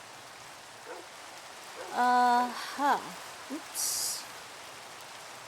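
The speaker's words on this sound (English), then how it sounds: "Ooh, it started raining outside." Rain falls in Minecraft as a soft, steady hiss, overlaid by several short tonal game sounds and a brief spoken exclamation.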